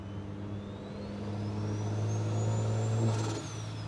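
A bagged BMW with a big turbo engine pulls under acceleration, its steady mid-pitched drone swelling louder over several seconds with a faint rising whine above, then easing off near the end.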